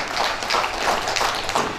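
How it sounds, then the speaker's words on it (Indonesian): A crowd at the inauguration of a Bank NTT office building in Rote Ndao applauds the regent. The clapping is dense, sustained and moderately close, and runs through the whole clip. "Kita tepuk tangan dulu Ibu Bupati ini"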